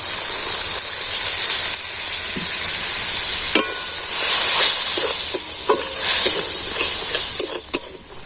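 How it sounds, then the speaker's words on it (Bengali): Rupchand fish masala sautéing in oil in a pan with a little water, a steady bright sizzle with intermittent stirring scrapes and small splashes, close and continuous. "এইভাবে আরও আমি ভালোভাবে কষিয়ে নেবো আবারও অল্প একটু জল দিয়ে দেবো"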